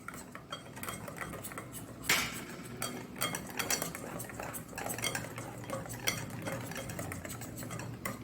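Poha and besan dosa batter stirred into a smooth, lump-free paste, with a spoon scraping and clinking steadily against the bowl in a continuous, close, busy rhythm and no talk.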